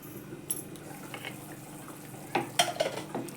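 Wheat porridge cooks in a pot on low heat, a faint bubbling bed broken by a few quiet scrapes and metallic clinks of a spoon being stirred, louder toward the end.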